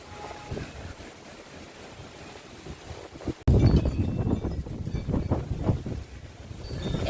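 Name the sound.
strong storm wind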